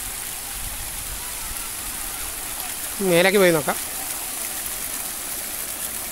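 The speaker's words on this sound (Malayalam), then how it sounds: "വെള്ളച്ചാട്ടം മേലെ നിന്ന് വരുന്നത് മൂന്ന് ലെയറായിട്ടാണ്." A three-tiered waterfall at Brindavan Gardens in Mysore gives off a constant broadband rush of falling water throughout, and someone speaks briefly over it partway through.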